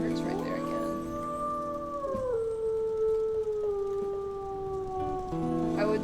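A wolf in the WolfQuest video game howls in long, sliding, sustained tones that dip and resume, layered with a second steady voice and faint background tones throughout.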